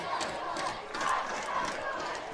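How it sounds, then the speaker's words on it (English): A high school football crowd at American Canyon cheers after a touchdown, a continuous roar of many voices swelling and ebbing, with faint commentary mixed in. "you're hearing it from this crowd from American Canyon"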